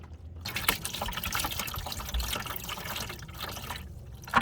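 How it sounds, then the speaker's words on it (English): Coolant drains out of a CAT C-12 diesel engine's cooling system, a continuous watery trickle and splash that is fairly faint and close, with no talking. "drain out the coolant"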